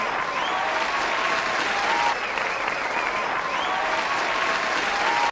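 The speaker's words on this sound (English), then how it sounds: "Round of applause, please." A crowd's round of applause fills the whole stretch as steady, dense clapping, loud and continuous from start to finish with no voices standing out.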